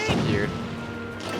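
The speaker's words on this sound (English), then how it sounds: "We must pursue and keep pounding it with the cannon." A cannon firing in the video game The Legend of Zelda: Skyward Sword, one sharp booming blast at the start followed by a decaying rumble, with a voice talking over it.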